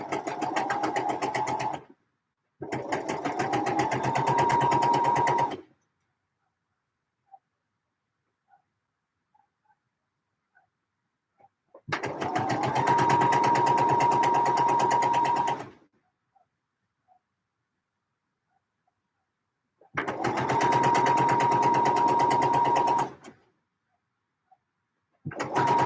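A sewing machine stitches trousers in three steady bursts of several seconds each, a fast even mechanical whirr close up, separated by quiet pauses with faint clicks and no talk.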